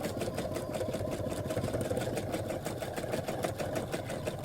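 A sewing machine stitching in free motion quilting, a fast steady mechanical whirr with rapid needle chatter, close and fairly quiet with no talking.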